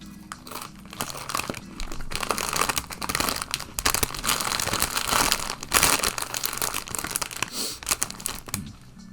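A bag of Guy's Hometown Pretzels crinkles and rustles up close, steady crackling and crunching handling noise running continuously with no talk.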